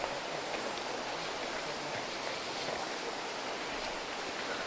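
Water pours steadily over the lava rock columns of Sap Phlu waterfall in Phetchabun, a continuous broadband rush with no breaks, close and fairly loud.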